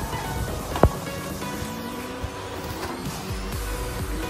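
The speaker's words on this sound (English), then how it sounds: "The printer will be print out about the quality report for you." A Canon inkjet printer prints a quality report, giving a steady mechanical whir and rattle of moving parts, with a brief sharp click near the start and faint knocks throughout.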